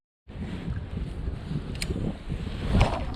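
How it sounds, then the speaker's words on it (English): Wind gusting outdoors at a trout fishing spot, a steady low broadband rush that swells and peaks near the end, with no speech. "Oh, the wind's picking up though."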